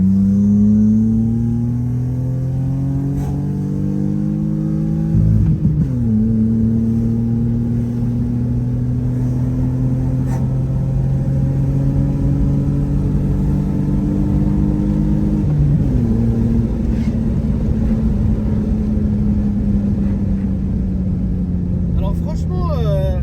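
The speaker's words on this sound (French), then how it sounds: "Le bruit qui passe à l'aigu jusqu'au rupteur d'origine d'ailleurs." A BMW E36 engine revs loudly toward the stock rev limiter, its pitch climbing steadily and dropping sharply twice before climbing again, a continuous close droning roar.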